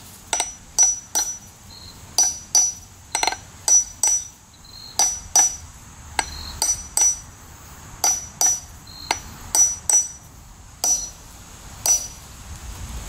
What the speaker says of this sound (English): You can just use a regular hammer that you have around the house.